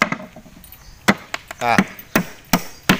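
Pounding with a tool while preparing lumpia for lunch: sharp hits repeat roughly every half second, some spaced irregularly, with a short vocal sound in between and faint talk in the background.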